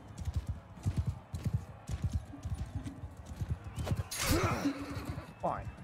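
In a medieval video game, a horse's hooves clip-clop in a quick galloping rhythm, then a loud neigh rises near the end, with game sounds mixed in.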